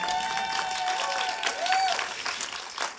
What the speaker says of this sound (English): did I hear a clap out there for Amanda?